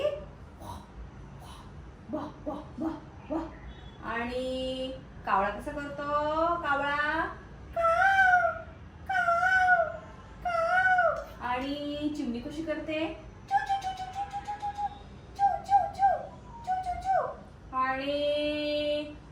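A person speaks in a sing-song voice, then repeatedly mimics a dog with a run of short barking and yelping sounds.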